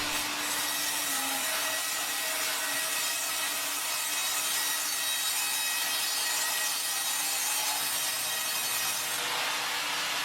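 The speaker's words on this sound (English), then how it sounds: "Unlike circular saws, the bandsaw design allows for thinner cuts, reducing waste and maximizing usable lumber from every log." A sawmill bandsaw cuts through a log with a steady, loud, continuous whine of blade on wood that runs unbroken for about nine seconds, then drops off near the end.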